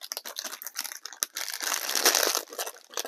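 Crinkly plastic packaging from a UV resin kit is handled up close, producing bursts of sharp crackling and rustling that swell into a dense crinkle before tapering into lighter scrunches.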